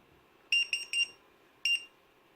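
A multi-rotor drone's lost-model buzzer alarm sounds in three quick shrill beeps, then a pause and one more beep, close and piercing against a quiet room.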